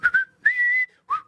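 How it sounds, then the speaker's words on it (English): A person whistles on a basketball talk show: three clear, close tones, two short chirps, then a longer held note, then a final short dip, with no talking. "give a little whistle"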